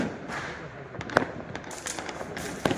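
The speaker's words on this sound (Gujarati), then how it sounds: "ચલો જઈએ ફટાકડા ફોડવા આપણે" Diwali firecrackers and fireworks bursting outdoors: scattered sharp cracks and bangs, some near and loud, others farther off, over a steady background hiss of crowd noise.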